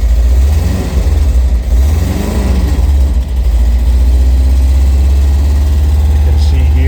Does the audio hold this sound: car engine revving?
yes